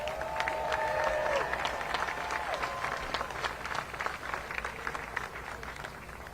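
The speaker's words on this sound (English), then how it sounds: "Let's give a round of applause for Reverend Dr. Gerald Durley" An audience at a voting rights march in Atlanta claps for a reverend taking the stage, moderately distant, fairly steady applause with crowd noise and some whistling early on, fading gently toward the end.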